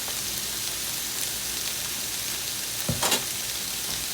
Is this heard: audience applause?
no